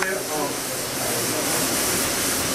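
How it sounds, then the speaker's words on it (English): Continuous hissing steam vents steadily from a steam engine at a lumber mill, a broad airy rush close by, with a brief tonal hum at the very start. "There's steam that comes off the top."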